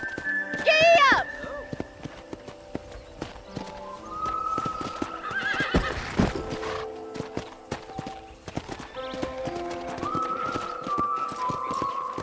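A horse in the video game Red Dead Redemption whinnies sharply, then clip-clops along at a steady gait, hooves close and clear under soft background music with a voice speaking.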